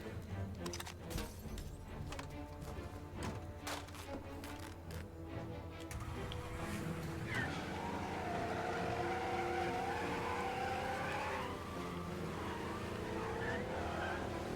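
Car driving and skidding in Mafia: Definitive Edition, a steady engine drone with tire squeal rising over the second half after earlier clattering and knocks, loud and continuous.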